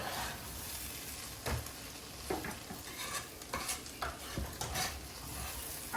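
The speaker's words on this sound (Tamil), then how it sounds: "லைட்டா இந்த ரைஸ் ஹீட் ஆகுற வரை நல்லா கலந்துப்போம்." Soaked basmati rice is stirred in a hot pan for veg pulao, with a spoon scraping in irregular strokes over a light, steady sizzle, close up and without talk.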